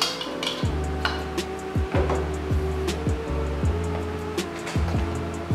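A food chopper whirring and stirring rice flour batter with sugar, its motor cycling in repeated surges with rhythmic scraping close by.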